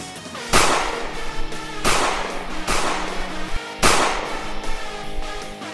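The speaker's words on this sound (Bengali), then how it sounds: "গোলাগুলি শুরু হলো" Dramatized gunfire in a Bengali audio story: four loud, sharp shots spaced about a second apart, each with a ringing tail, set over a background of music.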